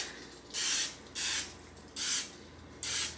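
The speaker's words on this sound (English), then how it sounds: "Now I'm gonna grab my muffin tin. All right, so I'm gonna spray" Four short bursts of cooking spray hiss into a muffin tin in a steady rhythm, each lasting under half a second, close by with quiet pauses between them.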